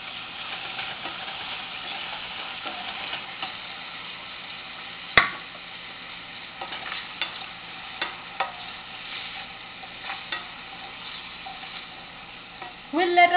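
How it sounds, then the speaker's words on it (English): Onions and green chili fry in a pan with a continuous close sizzle, punctuated by occasional spoon taps and one sharp clack midway, and a brief louder sizzle swell at the very end. "We'll let our onions cook."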